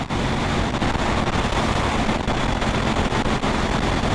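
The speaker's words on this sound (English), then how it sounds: "It's got dead windy again." Strong wind buffets the microphone outdoors, a loud, continuous roaring rumble with gusty fluctuations.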